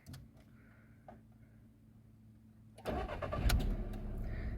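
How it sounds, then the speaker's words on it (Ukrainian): A used car's engine is cranked from inside the cabin and catches after a quiet stretch of faint clicks, then settles into a loud, close idle with a few rough bursts. "Йдемо в салон і запускаємо двигун."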